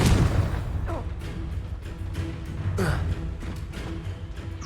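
A Confringo blasting spell explodes in Hogwarts Legacy, a sharp burst at the start that settles into a rumbling, crackling battle din with scattered pops and whooshes.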